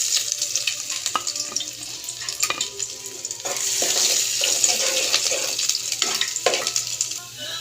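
Garlic, onion, ginger and pepper sautéing in a pan for corn soup, a loud continuous sizzle with frequent stirring clatter and a low steady hum throughout.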